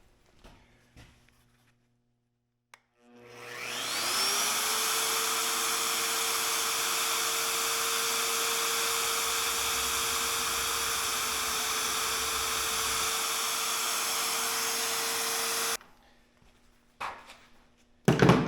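A magnetic drill bores into a 1-inch steel table, starting with a rising whine that settles into a loud, steady motor roar for about twelve seconds before cutting off abruptly, followed by faint clanks.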